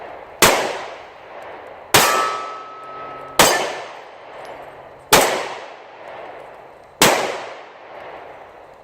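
Five sharp shots from a Smith & Wesson 9mm Shield pistol ring off steel targets outdoors on a cold farm day, each crack followed by a bright metallic clang that decays before the next, spaced about one and a half seconds apart.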